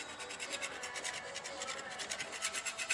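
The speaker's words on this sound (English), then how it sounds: "I'm just using a scraper." A metal scraper rasps steadily across a cylinder head, stripping off an old head gasket and smeared silicone in a shed, a continuous close scratchy rubbing with repeated strokes.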